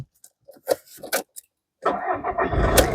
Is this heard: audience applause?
no